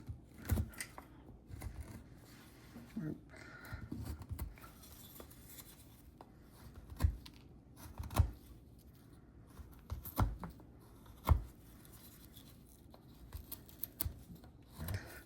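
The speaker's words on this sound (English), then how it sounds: "I'm going to use my soft V so I can just run it up the side of this line and use that almost like a stop cut there" A soft V carving tool cuts a stop line in wood, giving quiet close scraping strokes punctuated by a series of sharper, brief cuts and taps spaced unevenly throughout.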